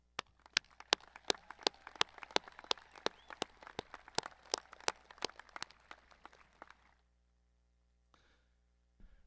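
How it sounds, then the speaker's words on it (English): Applause at the Bethel Park High School 2025 commencement, heard as a faint, distant patter of sharp claps in a fairly even rhythm that tapers off after several seconds, followed by a couple of stray claps. "I would like to thank the families of our students for all they have done to assist our students in arriving at this time and moment with a round of applause"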